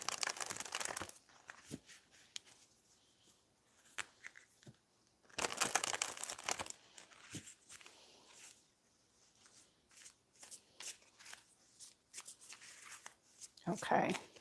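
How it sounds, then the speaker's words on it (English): Tarot answer cards shuffled and pulled from the deck, soft papery riffles and slaps in a few separated bursts, close and quiet, with a voice talking in between. "I'm going to pull 3 answer cards"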